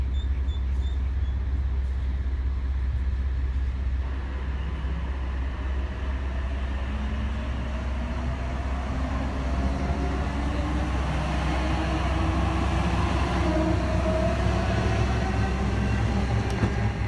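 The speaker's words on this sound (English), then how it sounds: "Approaching Mount Victoria on the Blue Mountains line, we have a Sydney Central service returning from Lithgow." A Sydney Trains service bound for Sydney Central, returning from Lithgow on the Blue Mountains line, approaches Mount Victoria station. A steady, loud rumble of rolling wheels and motors builds gradually throughout, with a brief tonal whine near the end.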